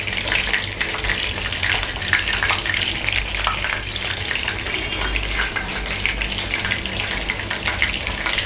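Chilli chicken pieces frying in hot oil, a steady, dense sizzle with crackling pops running close and loud throughout, with occasional stirring.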